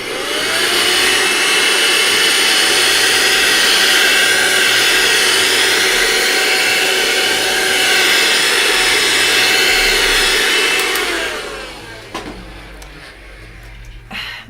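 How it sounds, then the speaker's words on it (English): Vacuum cleaner running loud and steady for about eleven seconds at an artist's pastel workspace, a broad whooshing roar with a faint whine, then switching off and winding down. "now I'm going to have to vacuum"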